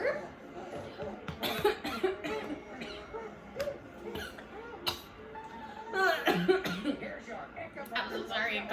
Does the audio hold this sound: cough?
yes